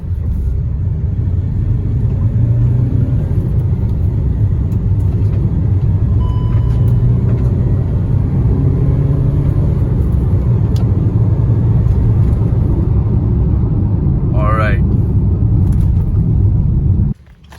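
Diesel Kia Seltos HTX, pre-facelift 2022 model, accelerating hard from 0 to 100 km/h, a steady loud engine and road rumble heard from inside the cabin that cuts off abruptly near the end.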